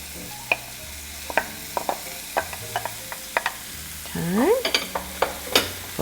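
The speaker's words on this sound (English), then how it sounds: "Now we're gonna just saute this till the" Carrots, celery and plenty of onions sauté in a pan while a utensil stirs them, giving a run of sharp clicks and scrapes over a soft sizzle, with a brief squeaky sliding sound near the end.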